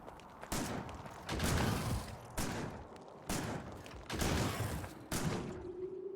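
Defense turrets in the video game Factorio fire at attacking aliens in heavy bursts of rapid gunfire, with several loud volleys broken by brief lulls.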